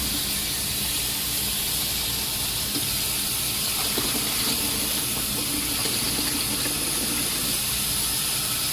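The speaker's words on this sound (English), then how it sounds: "So I got my potatoes here. I'm going to rinse these off." Cut potatoes rinsed under a steady stream of running water, with loud, continuous hiss and splashing throughout.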